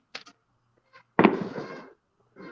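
Outdoor fireworks go off on New Year's Eve: a single sharp bang rings out and fades over about half a second, with faint small pops before and after.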